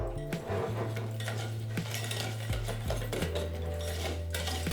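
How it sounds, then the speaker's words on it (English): A whisk clatters steadily against a bowl while pancake batter is beaten vigorously to break up lumps, with quick metallic clinks and scraping repeated in a close, busy rhythm and no voice. "whisk it really vigorously to get rid of all of the lumps in your batter"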